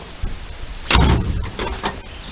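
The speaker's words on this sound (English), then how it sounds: "this door opens and closes just fine" The door of a 1967 Sunbeam Alpine sports car shuts with a single solid thump close to the microphone, followed by a few smaller rattles and clicks of the latch.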